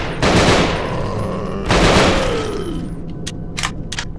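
Triple-shot burst weapon in the game Hellsound: two loud, booming blasts with long reverberant decays, followed by a few fainter sharp clicks near the end, with no talk.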